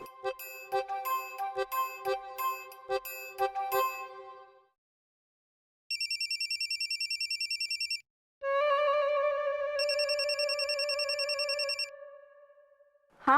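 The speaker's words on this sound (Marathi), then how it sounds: "हा मानस, तू घरातल्या घरात का फोन करतोयस?" A telephone rings with an incoming call inside a home: a rapid, repeated bell-like ringtone in bursts, then a steady chiming electronic tone, fairly close and clear with no talking over it.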